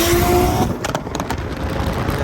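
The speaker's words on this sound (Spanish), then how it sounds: "Como se escucha el turbo, qué locura, loco." A turbocharged Toyota Supra MK4 engine roars loudly with a whistling turbo whine, then drops off into sputtering pops and a rougher idle.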